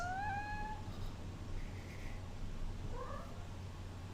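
Cat meowing close to a microphone, two rising meows right at the start followed by a softer short meow a few seconds later over a low background hum.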